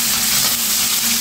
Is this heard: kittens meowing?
no